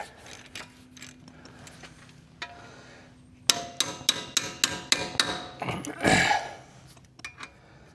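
A sharp mechanical clicking train from a worn ratchet with slipping teeth, about eight rapid clicks in a steady rhythm, close by, followed by a brief grinding rattle.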